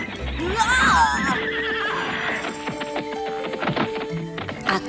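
A big white horse lets out a loud, close whinny that rises and wavers, followed by shuffling and clopping hoof sounds.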